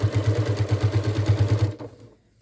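A sewing machine runs a fast, even line of stitches through stiff fabric for a Halloween witch hat, its rapid rhythmic chatter loud and close before stopping abruptly.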